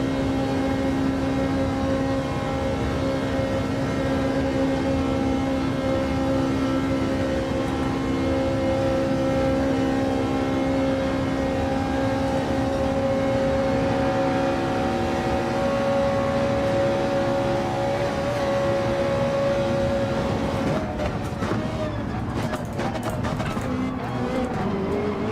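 Ferrari 458 Gr.3 race cars in Gran Turismo 7 at the Nürburgring, with a continuous loud droning engine that holds high revs before shifting pitch near the end, while a person talks over it.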